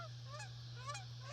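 Canada geese honking as a flock flies overhead, several rising nasal honks in quick succession, fairly faint and distant over a steady low outdoor hum.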